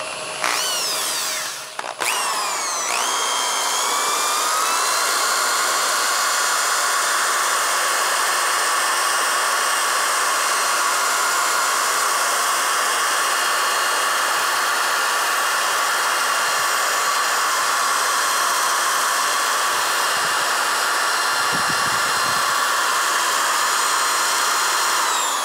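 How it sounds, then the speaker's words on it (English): A hollow sphere being sanded on a spinning lathe, a loud continuous whirring drone with a steady high whine after a brief startup, unbroken for the whole stretch, no voices. "we can sand the entire surface now"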